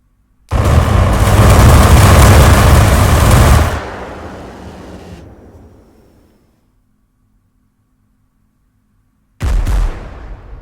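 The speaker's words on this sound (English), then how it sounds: "Let's get a gun run coming in." In the video game Arma 3 with the Blastcore mod, an A-10 gun run erupts as a roaring burst of rapid cannon fire, followed by rumbling explosions that fade into quiet, then another sharp blast near the end.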